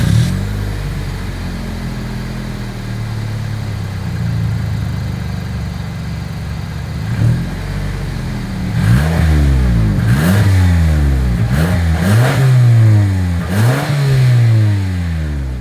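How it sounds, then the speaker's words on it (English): 2024 Toyota Camry with a single exhaust idling at a low, steady rumble, then revved several times in quick bursts that rise and fall, heard close to the tailpipe with no talking. "As always, here is that exhaust clip."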